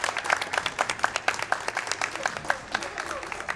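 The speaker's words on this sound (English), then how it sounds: "The crowd's loving it." A video game crowd cheers and applauds in Ratchet & Clank: Into the Nexus, a dense run of claps and cheers throughout, with a voice talking over it.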